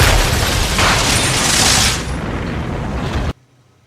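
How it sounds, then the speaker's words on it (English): A big fiery explosion in a TV show, a loud roaring blast that rumbles for a couple of seconds, then tails off and cuts abruptly to near silence. "Big fiery explosion 8 minutes in on the first episode?"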